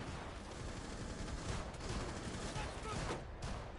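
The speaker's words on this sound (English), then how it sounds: "Oh, I just actually shot him." Rapid gunfire bursts in Rainbow Six, dense and continuous, crackling through a noisy game mix over the whole short stretch.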